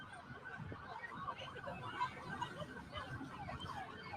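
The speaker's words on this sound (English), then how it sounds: "They got over 30 police cars out here." A siren wails on and off in the distance beneath a busy, noisy outdoor scene, steady and fairly faint throughout.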